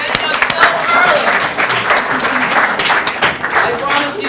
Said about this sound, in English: I want to start by giving all of you, come on, a round of applause.